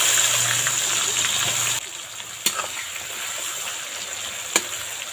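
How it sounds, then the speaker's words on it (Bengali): Chopped onion sizzles in hot oil with already-fried whole spices, a steady close frying hiss broken by two sharp knocks from stirring. "এবার দেবো পেঁয়াজ কুচি"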